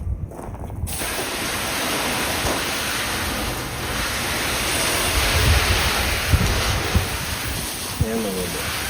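Water from a hose sprays hard against the wall of a cargo trailer under conversion, making a steady, loud rushing hiss that barely changes, with a few knocks near the end.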